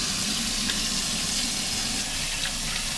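Hot water runs steadily from a sink tap in a home kitchen, a continuous close hiss and splash with no pauses.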